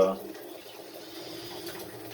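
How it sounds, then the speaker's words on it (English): Water draining from an electric water heater boiler, a steady low hiss and gurgle running continuously at close range after a brief louder onset. "I'll just let it drain."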